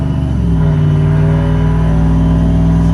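Turbocharged RAM Hemi engine revving up while still warming, a loud, close, steady roar with rising throaty harmonics throughout, no voices.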